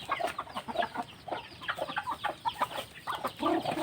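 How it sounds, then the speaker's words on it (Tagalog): Chickens cluck in short, overlapping bursts at close range on a farm, a busy, continuous chatter of fowl with no talking. "daan muna tayo sa ating manok, pakain tayo"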